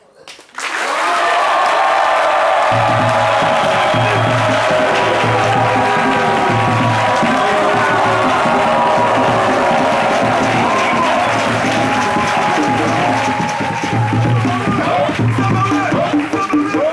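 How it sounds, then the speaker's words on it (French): Studio audience applauding and cheering on a French TV talk show: loud, sustained clapping and whoops from a close crowd, with a rhythmic low music beat running underneath for the whole stretch. "On applaudit très fort pour Aziz Fofana"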